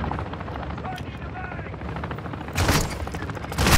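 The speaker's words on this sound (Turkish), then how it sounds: "Helikopter geldi." A helicopter arrives in the Call of Duty: Modern Warfare II DMZ game, a steady loud rotor drone filling the clip, with bursts of gunfire swelling near the end.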